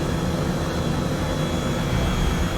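A helicopter descends to land on a pad in Microsoft Flight Simulator 2020, its engine and rotor making a loud, steady, dense roar throughout with no talking.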